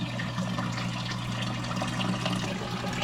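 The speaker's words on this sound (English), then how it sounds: "We're gonna mix the water a little bit" Water being stirred and mixed in a fish tank on a homestead fish farm, a soft continuous sloshing and trickling close by over a low steady hum.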